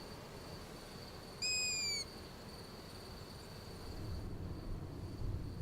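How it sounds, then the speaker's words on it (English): Long-eared owl chicks in the nest on the Canary Islands give a single rising then falling whistled call that lasts about half a second, set against a steady bed of night insects. The call is moderately near and clear. "In the simple nest of the long-eared owl, the smallest chicks get warm next to the firstborn."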